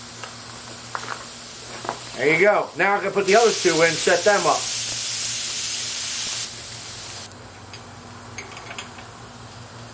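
New safety valve on a steam plant venting steam in a loud, steady hiss lasting about three seconds, then cutting off, with someone talking just before it starts.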